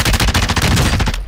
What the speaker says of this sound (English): he's looking at me, shooting me, sniping